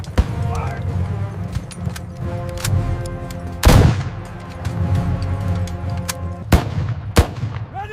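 Staged battle fire from the 1898 Battle of Omdurman: sharp, loud rifle and artillery bursts crack out over rumbling battle noise, with a big blast midway and two more sharp reports near the end.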